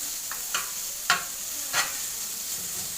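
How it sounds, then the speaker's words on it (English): Bacon strips frying in a dry pan with no oil, for homemade pizza toppings: a quiet, steady sizzle with a few soft crackling pops, alone without talk. "fry them very well without any oil, because bacon has oil anywhere"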